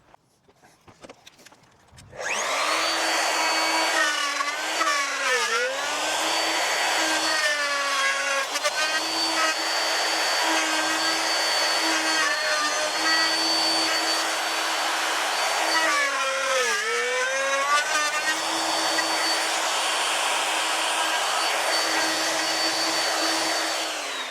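Electric router starts up and runs steadily as a loud, close, high whine, its pitch dipping briefly a few times as it loads, with no talk.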